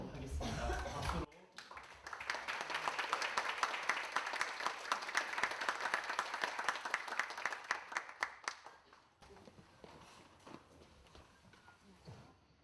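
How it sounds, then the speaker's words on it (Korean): Symposium audience applauds a professor stepping up to the lectern, crisp clapping building up and fading out over several seconds, with some speech around it. "박수로."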